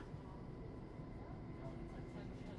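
Steady low rumbling of a train in motion, a continuous broad roar with no distinct breaks, heard from close by.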